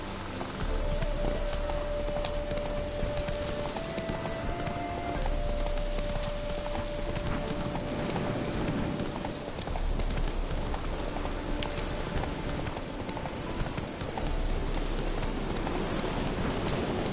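Roach the horse gallops through The Witcher 3 on Death March difficulty, hooves pounding in a steady run across the whole stretch, mixed with ambient game birdsong and wind.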